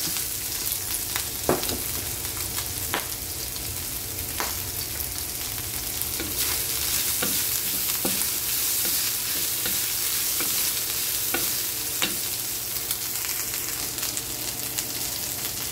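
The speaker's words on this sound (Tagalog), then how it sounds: "magigisa po tayo ng bawang, sibuyas at luya" Garlic, onion and ginger sautéing in a hot pan for Filipino pinakbet: a steady close sizzle with scattered sharp clicks and scrapes as the pan is stirred.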